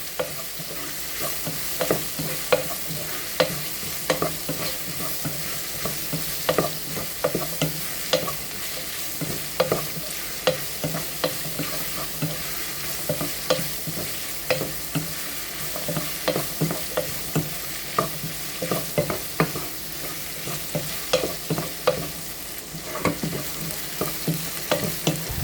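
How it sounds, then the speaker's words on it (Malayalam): Onion and garlic sizzle in hot oil in a pan while being stirred for sambar, a steady frying hiss broken by frequent scraping stirs, close and with no talk. "ഇനി ഇത് നമുക്ക് നല്ലപോലെ വഴറ്റിയെടുക്കാം. ഉള്ളി നല്ലതുപോലെ വഴണ്ടി വരണം."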